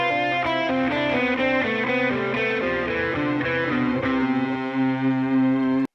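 An electric guitar with distortion and effects plays a major scale as a quick run of distinct single notes, ending on a sustained held note, clear and alone.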